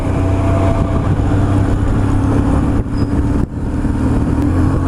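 A BMW R1150GS motorcycle engine drones steadily with a low, throaty, torquey rumble, close and continuous, holding a fairly even pitch throughout with a brief dip partway through.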